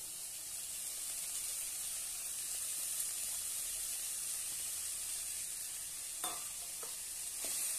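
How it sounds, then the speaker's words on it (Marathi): Finely chopped fenugreek leaves go into okra frying in a pan, giving a faint, continuous hiss of frying with a few soft stirring scrapes near the end. "आता आपण यामध्ये मेथी बारीक अशी कट करून घेतलेली आहे ती घालूया"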